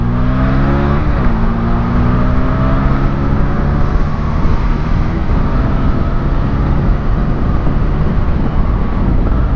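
A 2019 Honda Rebel 300 motorcycle accelerating hard in second gear, its engine note climbing steadily to a loud sustained drone with heavy wind rush, recorded close from the rider's position.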